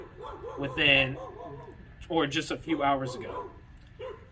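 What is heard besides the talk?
dogs barking outside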